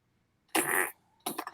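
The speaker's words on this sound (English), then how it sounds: "you want to make the fart noises again there?" Two raspy fart noises, one longer burst and then a shorter sputtering one, close and loud with silence around them.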